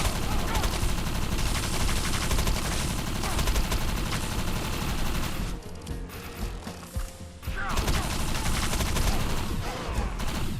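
Dense, continuous gunfire and grenade blasts from the sci-fi shooter game Defiance, loud and close, briefly thinning out midway before the rapid volleys resume at full intensity.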